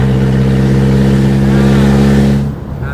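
A Mazda car engine on its first real test drive holds a loud, steady droning rev with a strong low hum, then drops off sharply near the end.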